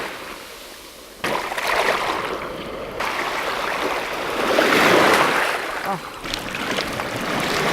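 Water splashing and running over honeycomb and silk fina sea sponges as they are soaked, a continuous close hiss and trickle that swells and eases.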